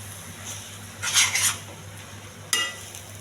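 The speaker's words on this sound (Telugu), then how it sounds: "చికెన్ వేసేయాలి, బాగా కలపాలండి" Chicken pieces being stirred in a hot pan for chicken curry, with a low sizzle and two bursts of utensil scraping and clatter, one longer and one short, close by with no talk.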